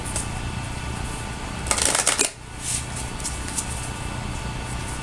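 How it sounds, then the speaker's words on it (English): A deck of tarot cards being shuffled, a crisp riffling burst of about half a second at close range, followed by quieter card handling over a low steady background hum. "I've actually already shuffled these a few times, but let's give it another go"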